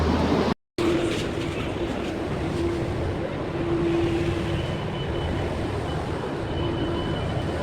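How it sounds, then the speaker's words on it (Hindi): A metro train arrives at a station in Delhi, giving a continuous loud rumble with a faint high whine, steady and close throughout apart from a brief dropout near the start. "अभी आएगी मेट्रो, जस्ट आ गई है।"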